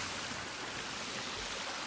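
Steady rushing of flowing water, like a stream running close by, with no voices.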